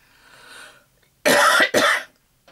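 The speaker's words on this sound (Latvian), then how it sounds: "Man bija klepus." Two harsh, loud coughs in quick succession from one person, close and dry, after a soft breathy exhale.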